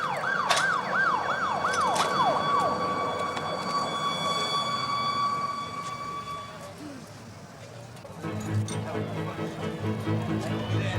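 An ambulance siren wails in repeated rising-falling sweeps, loud and close, then fades. It gives way to street noise and a louder rumble near the end, with voices faintly present.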